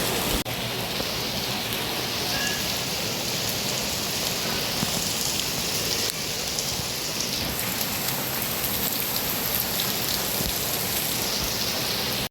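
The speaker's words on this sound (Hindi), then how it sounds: "अभी बिल्कुल तेज़ बारिश शुरू हो गई है" Heavy rain pouring outdoors on an August evening, a dense, steady roar of drops on surfaces throughout, with no voices.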